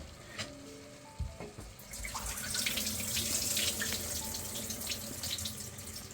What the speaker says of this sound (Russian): Знаете, когда промываешь, чтобы вот эта вся крахмальная пыль от риса все-таки ушла.